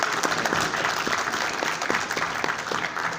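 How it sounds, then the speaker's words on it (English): Audience applause fills a comic convention panel room at Baltimore Comic-Con, steady dense clapping from a crowd throughout, with no pauses. "Please give a round of applause and let everybody know they're here."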